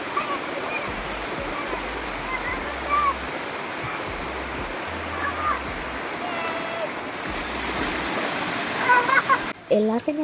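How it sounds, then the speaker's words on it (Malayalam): Small waterfall on a rainy Sunday, a steady broadband rush of falling water that runs through the whole stretch, with a voice briefly talking near the end. "എല്ലാവർക്കും ഞങ്ങളുടെ വെള്ളച്ചാട്ടമൊക്കെ ഇഷ്ടപ്പെട്ടോ?"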